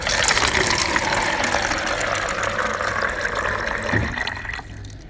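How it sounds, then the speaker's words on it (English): Water gushes and hisses steadily from a water dispenser in a waiting room as it fills, a loud, continuous rush that eases slightly in the final second. "This is a noise which I recorded myself,"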